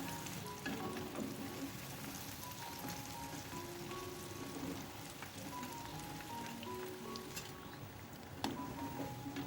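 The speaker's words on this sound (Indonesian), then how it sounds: "Ini kita akan goreng sampai berubah warna kecoklatan." Kue garpu dough frying in hot oil, giving a steady, dense sizzle and crackle that fills the whole stretch at an even level, with a few sharper pops near the end.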